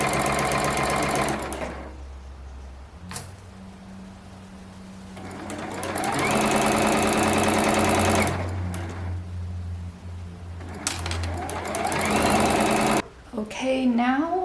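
A sewing machine runs a 3/8 inch seam through a 90s-style playsuit, stitching in a few rapid mechanical bursts separated by pauses, with a voice speaking near the end.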